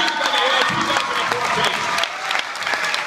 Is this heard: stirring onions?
no